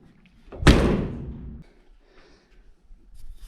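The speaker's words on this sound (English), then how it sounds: "got to slam these doors" The door of a 1951 Chevy truck, being installed and aligned, slams shut once with a loud, close metallic bang and a short rattling decay, followed by faint shuffling.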